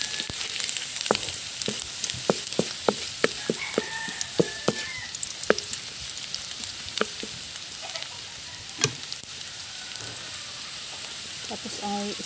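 Onion and garlic browning in a pan, a steady crackling sizzle with frequent sharp pops and spatula clicks, close and moderately loud, with a few brief tonal sounds in the background.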